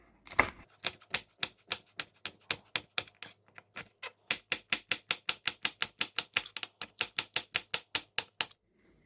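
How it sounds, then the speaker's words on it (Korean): A knife slices green and red chili peppers diagonally on a cutting board, giving a long run of crisp, evenly paced chops close by, with a brief pause partway through before the steady rhythm resumes. "청홍고추도 어슷 썰기로 썰어줍니다."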